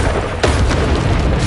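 A Bombarda spell explosion goes off in the Hogwarts Legacy video game, a sharp boom near the middle that sits over dense, continuous battle noise and rumble.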